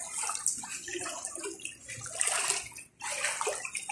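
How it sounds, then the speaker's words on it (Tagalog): Flood water left after heavy rain flows and sloshes nearby in a continuous watery rush with splashy surges, fairly loud, with a brief dip near the end. "So yan guys, grabe yung baha guys."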